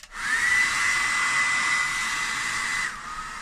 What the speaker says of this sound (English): just use the hairdryer to dry it off, putting the hairdryer on a medium heat.